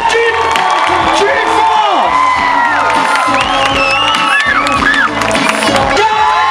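A crowd at a K-pop cover dance competition cheers, whoops and shrieks loudly and continuously for the champion team, with voices rising and falling across the whole stretch.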